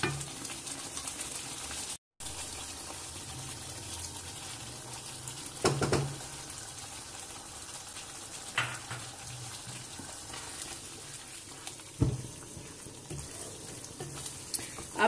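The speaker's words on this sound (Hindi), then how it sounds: "अच्छी तरह इसको भूनना है।" Chicken gravy for black pepper chicken fries in a pan with a steady, soft sizzle. A few louder stirring scrapes break through at intervals.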